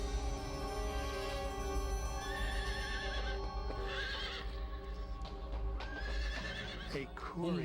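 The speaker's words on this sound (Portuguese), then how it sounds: "Um mensageiro chegou a cavalo" A messenger arrives on horseback: a horse neighs loudly while hooves clip-clop in a steady rhythm close by, and a dramatic narrating voice runs over them.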